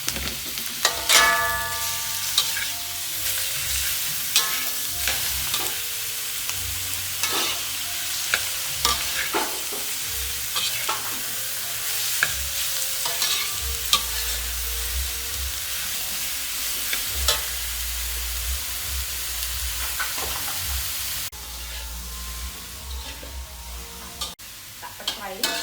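Eel stir-fried with holy basil sizzles loudly in a hot pan for a long stretch, punctuated by frequent metal spatula scrapes and clanks, with a voice talking at times over the cooking.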